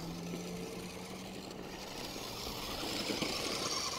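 A NewBright Bigfoot RC monster truck's electric motor runs on throttle outdoors, a steady broadband whirring buzz that holds for several seconds and swells slightly toward the end.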